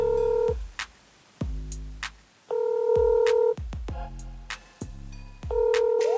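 A phone call being placed: rapid dialing beeps, then repeated electronic ringback tones in regular bursts separated by silences, loud and clear with no voices.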